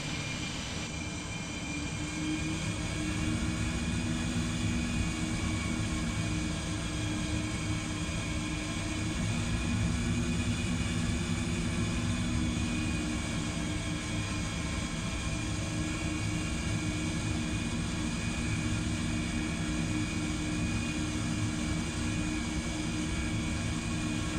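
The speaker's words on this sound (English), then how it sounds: "I will taxi very slowly then." Steady engine hum of a Boeing 737 taxiing slowly in Microsoft Flight Simulator 2020, a continuous even drone with no speech throughout.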